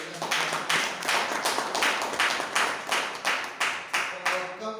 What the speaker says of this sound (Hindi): मैं एक बार जोरदार ताली देना चाहता